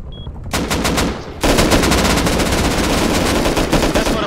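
Heavy AK rifle gunfire during a video game raid: dense, continuous automatic shooting that roars from start to end, swelling louder partway through, with other weapons overlapping.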